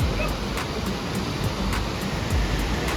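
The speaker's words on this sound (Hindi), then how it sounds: "और ये पत्थर पे टकरा रहा है पानी," A fast mountain river on the road to Kedarnath crashes over rocks beside a railing path, making a loud, steady, close roar of rushing water with no break.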